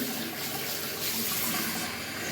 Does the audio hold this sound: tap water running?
yes